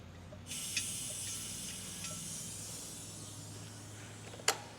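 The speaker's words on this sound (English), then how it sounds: "I start by opening the air drain valve." Compressed air hisses steadily from the opened air drain valve of an EZ Liner hydraulic power pack, starting abruptly and fading slowly over several seconds, with a couple of faint clicks and one sharp metallic tick near the end.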